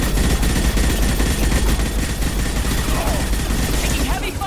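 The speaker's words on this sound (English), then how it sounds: "Taking heavy fire!" Heavy enemy gunfire in the Mass Effect game, a dense, continuous barrage of overlapping shots and impacts that stays loud and steady throughout, with faint game effects mixed in.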